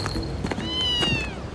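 A cat in an animated children's show, meowing in one drawn-out rising and falling call over a soft background, with a few light taps before it.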